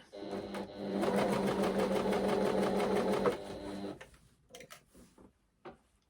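A sewing machine stitches in a fast, steady rhythmic chatter for a few seconds, then stops, followed by a few clicks and handling noises.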